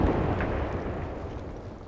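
A deep, sustained explosive roar from a firefight in the Apex Legends battle royale game fills the short stretch loudly and slowly fades a little toward the end.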